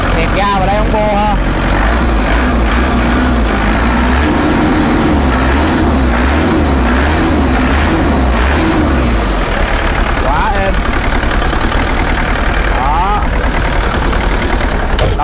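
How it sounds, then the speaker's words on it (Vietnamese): An IHI 55UJ excavator's diesel engine runs close and steady, idling with a rough low throb, then the throttle is blipped before it settles back, while someone talks throughout. "tiếng máy nổ khá là êm nha anh em, rất êm luôn. Đây nẹt ga vào đây ông vô ha."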